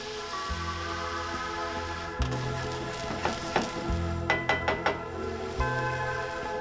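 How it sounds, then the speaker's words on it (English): White wine poured into a hot pan with tomato paste sizzles steadily, with a low hum underneath and a few sharp clinks of a utensil against the pan partway through. "So last thing we're gonna add is 3/4 of a cup of wine, white wine, and that will deglaze the whole pan."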